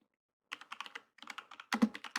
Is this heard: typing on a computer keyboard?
yes